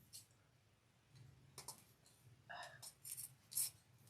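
Scissors snip through thick wire while a pink leopard-print deco mesh wreath is being made, giving faint, scattered crisp clicks and snaps against a quiet room background, with no talking.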